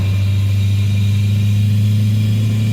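A 1.9L diesel engine swapped into a 1-ton truck with an AW4 automatic transmission drones loudly and steadily as the revs climb with the torque converter unlocked, a deep continuous hum close up.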